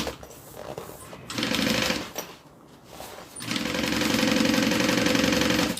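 A sewing machine stitches fabric in two bursts, a short run of rapid, even needle chatter, a brief pause, then a longer loud steady run, close by.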